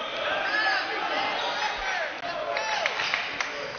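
Crowd noise fills the Arthur Johnson Gymnasium at a Region 14 college basketball game between Panola and Kilgore, a steady roar of chatter and cheering with scattered shouts and thuds, continuous throughout.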